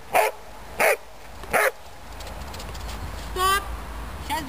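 Three sharp dog barks, evenly spaced, fairly close, from a dog being sent out during a training exercise, followed by a couple of softer yips and whimpers over a low background rumble.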